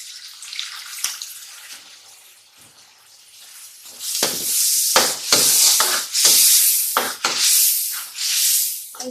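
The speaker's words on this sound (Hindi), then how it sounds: "अब इसमें थोड़ा सा पानी ऐड करेंगे।" Water poured into a pan of frying spinach and potato masala. A quiet start gives way to loud hissing, sizzling bursts that surge and break off repeatedly, close up, with no voices.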